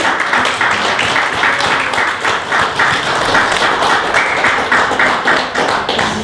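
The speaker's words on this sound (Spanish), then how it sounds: "Den un fuerte aplauso." Church congregation applause, a dense and steady wash of many hands clapping that holds at an even level throughout, with no talking over it.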